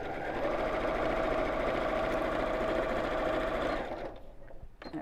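A sewing machine runs a seam in one steady, close, rhythmic whir for about four seconds, then stops, leaving light rustling and a small click.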